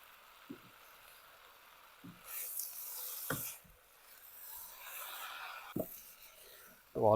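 Grated potatoes for hash browns fry in a hot pan, giving a soft, steady sizzle with a few scattered scrapes and knocks of stirring, quiet and close throughout.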